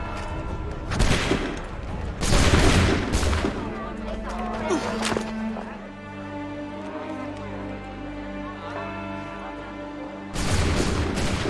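Musket volleys crack out in Assassin's Creed III, several sharp loud bursts of massed gunfire separated by quieter stretches with a low sustained tone, the last volley near the end.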